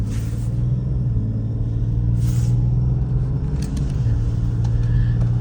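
Steady low rumble of a 1989 BMW 735i's 3.5-liter straight-six engine heard from inside the cabin while driving, continuous and fairly loud with faint road noise and a few brief higher clicks.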